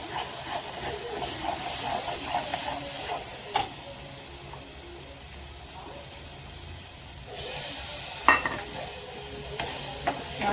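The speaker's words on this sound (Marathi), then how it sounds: "गरम मसाला टाकायचा तो थोडासा परतावला का आपलं वाटण टाकायचं" Masala paste sautéing in a pan with chicken masala and garam masala, giving a soft, low hiss and gentle stirring, with occasional spoon clacks against the vessel and quiet background voices.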